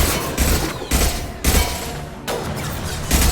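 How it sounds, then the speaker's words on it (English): Impact-shot gunfire in the Mass Effect 2 video game, a loud, dense volley of repeated blasts in several bursts, close and booming with almost no pause between them. "Firing an impact shot!"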